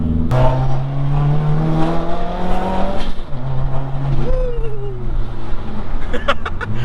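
A Stage 3 modified Subaru WRX engine roars as it accelerates, pitch climbing and dropping through gear changes, with a brief high tire squeal near the end.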